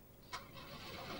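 Car engine cranking over without catching as Larry turns the key, a faint, steady mechanical churn with one brief sharp click near the start, no voices.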